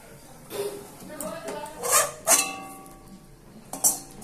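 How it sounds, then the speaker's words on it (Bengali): Fried grated coconut is lifted out of a hot pan with a metal utensil, giving a few close, light clinks and scrapes against the pan, with a voice talking over it. "দেখুন নারকেলটা আমার ভাজা হয়ে গেছে আমি এবার নারকেলটাও নামিয়ে নিচ্ছি"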